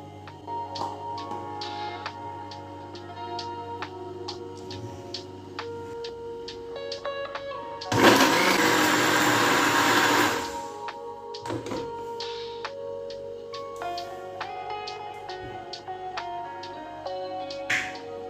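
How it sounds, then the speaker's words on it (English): An electric kitchen blender runs in one loud, steady whirring burst of about two seconds. Scattered clicks and tonal sounds come before and after it, and no one talks. "Blender."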